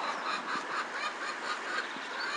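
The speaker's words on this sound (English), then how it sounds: "There's a chicken." A chicken clucks and squawks in a quick run of calls, somewhat faint and distant, with a light background hiss and no speech.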